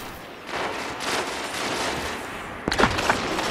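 A burst of gunfire in an online multiplayer video game, a dense fusillade of shots running through the clip with a sharper crack near the end, loud and close over a game soundscape.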